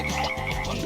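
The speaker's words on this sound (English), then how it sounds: "Oh, I'm getting frogs now?" Cartoonish frogs croak in Katamari Damacy, a short burst of bouncy, warbling calls over the game's background music.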